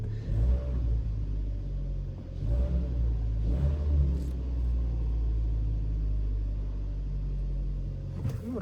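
A Kia Sportage 2.0 G4KD petrol engine, rebuilt after heavy cylinder scoring and knocking, idles steadily with a low, continuous rumble that stays even for the whole stretch, heard alone with no talk.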